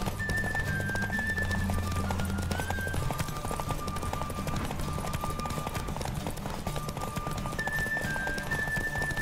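Steady clip-clop of a galloping horse in The Witcher 3 video game over a busy background of music and game effects, continuous and fairly loud throughout.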